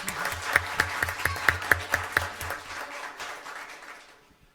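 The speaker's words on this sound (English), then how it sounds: "How about a round of applause for Allison?" Applause at a school district governing board meeting, a small group of sharp distinct claps in a steady rhythm that soon tapers off into silence, close and fairly clear.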